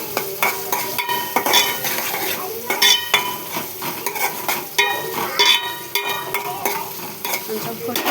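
Onions with a pinch of salt frying and sizzling in a pan, stirred repeatedly with a utensil that scrapes and clinks against the metal in an irregular rhythm, close and fairly loud with no talking.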